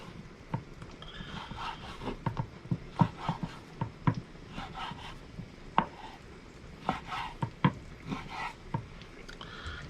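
Knife slicing unsmoked back bacon into strips on a board: irregular sharp chopping taps, some clustered and some spaced out, fairly close, with faint scraping between strokes and no speech.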